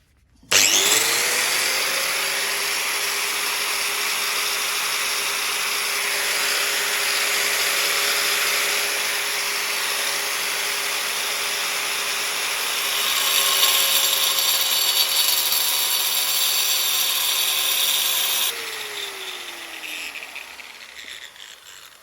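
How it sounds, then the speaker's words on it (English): An angle grinder spins up and cuts through tile, a loud, steady high-pitched whine that holds for most of the stretch, shifts slightly in pitch midway, then drops away as the cut ends and the disc winds down. "here's the angle grinder. All you do is press that up to turn it on"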